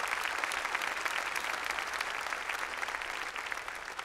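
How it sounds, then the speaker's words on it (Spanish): Church congregation applauding during a Sunday service, a dense, steady wash of many hands clapping throughout, fairly distant and even in level. "Denle un aplauso al Señor, denle un aplauso"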